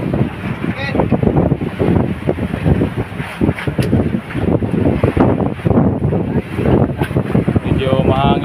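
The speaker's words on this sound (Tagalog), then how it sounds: "Mahangin at medyo maalon." Gusty wind roars over a choppy sea, buffeting loudly in surges with brief lulls, while voices talk intermittently over it.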